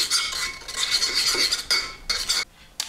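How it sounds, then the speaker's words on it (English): A pinch of salt mixed into egg yolks in a bowl: quick rhythmic whisking and scraping of a utensil against the bowl, close and clear, with brief pauses. "just a pinch of salt in the egg yolks and just mix that in"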